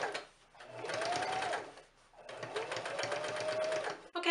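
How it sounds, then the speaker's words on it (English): Sewing machine running a straight stitch along the edge of a curtain panel, two sustained whirring bursts separated by a short pause, close and steady. "I'm just going to make a straight stitch along the edge of the panel"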